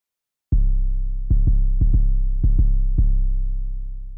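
Deep 808 bass notes programmed in FL Studio, cut short so they stay clean and undistorted, play a sparse rhythmic pattern of about seven hits with sustained low booming tails, close and alone.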